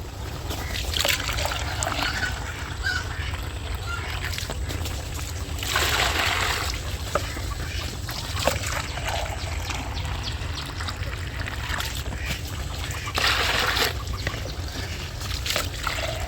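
Water poured from a 1.5 litre mug, a continuous splashing trickle with several louder surges of pouring, close and alone.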